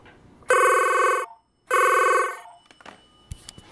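Two loud, close bursts of warbling ringing from a Rauland Borg TC4333 staff phone, separated by a short pause, then a few soft clicks and taps.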